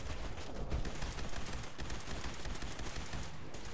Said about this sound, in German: ich schieße die ganze Zeit gegen einen anderen